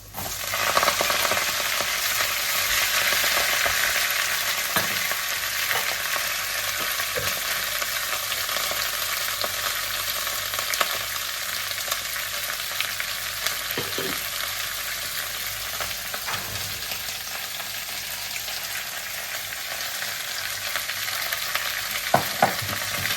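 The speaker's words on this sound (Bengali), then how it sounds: "কালো জিরা, একটু রসুন দিলাম, শুকনো লঙ্কা দিলাম, দিয়ে ডালটা বানাবো।" Black cumin, garlic and dried chili sizzle steadily in hot oil in a pan for dal, a loud continuous frying hiss with occasional stirring scrapes, no talking.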